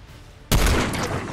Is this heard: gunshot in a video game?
yes